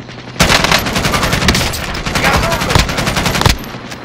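Close, loud automatic gunfire in Call of Duty: Modern Warfare during a firefight at a police station, a sustained rattling stream of shots lasting about three seconds with scattered voices under it.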